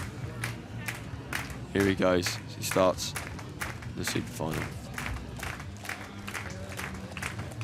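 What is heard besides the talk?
home crowd cheering and applauding at a bike trials event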